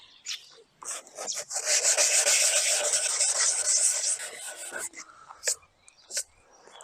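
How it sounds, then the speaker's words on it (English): Hand sanding with 240 grit sandpaper along the peeled paint edges of a Mercedes C200 W203 car mirror, a steady close scratchy rubbing for about three seconds, framed by shorter strokes before and after. "I'm going to start with some 240 grit, smoothing these edges here and key up the rest ready for some new paint."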